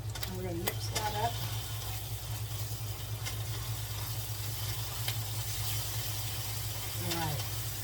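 Breakfast burrito filling stirred in a hot pan, a continuous loud sizzle and hiss with occasional scrapes of the spatula, while a person talks briefly over it.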